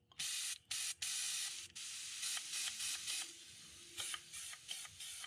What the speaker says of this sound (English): you can pull back and clean out your airbrush. Clean out any clogs without having to remove the handle